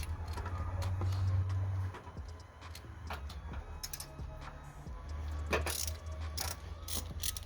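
A ratchet clicks quickly and steadily in short bursts while tightening bolts on a Ford Focus shift tower housing, close and fairly quiet with a faint low hum underneath.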